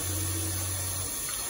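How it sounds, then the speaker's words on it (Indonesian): Drinking water runs from a tap in a UK gym toilet, a steady close hiss of flowing water with a low pipe hum that fades partway through. "Jadi kalian bisa tambah airnya lewat kran aja."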